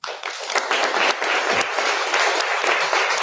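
A room applauds after a senator's address, dense, even clapping that starts abruptly and stays loud and steady for a few seconds.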